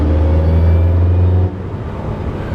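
Porsche 918 Spyder supercar engine droning loud and close with a steady low note for about a second and a half, then dropping to a quieter rumble.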